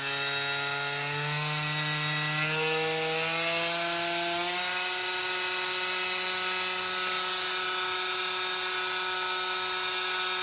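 High-speed ATC spindle on a converted SX2.7 mill, spinning at over 10,000 RPM: a loud, continuous whine whose tones rise in pitch as it spins up, then hold steady under a bed of hiss.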